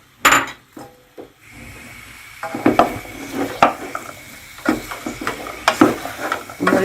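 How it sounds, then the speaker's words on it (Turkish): Diced meat and onions sauté in a pan, with a gentle sizzle under repeated clacks and scrapes of a spoon against the pan, plus a few sharper knocks. "Biraz kavuracağım, hafiften kavuracağım. Yanına soğanımı da koyuyorum."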